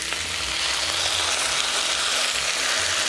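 Pork loin browns in a hot pan with a steady, even sizzle and crackle of frying, close and continuous with no voices.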